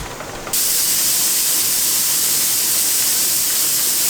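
Steam vents from the valve of a pressure canner in a sudden steady hiss that jumps up loud and stays constant and close, with no talking.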